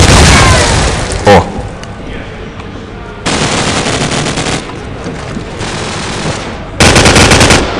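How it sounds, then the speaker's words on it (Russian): Heavy automatic gunfire and explosive booms in Call of Duty Black Ops, loud sustained bursts that cut off and resume several times, with a pause of quieter background between them. "Пошла стрельба."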